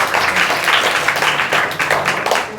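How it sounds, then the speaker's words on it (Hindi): An audience claps together during a Hindi talk on spiritual practice: a steady, dense wash of applause that keeps going for the whole stretch without pause. "ताली बजाओ एक बार इसके लिए।"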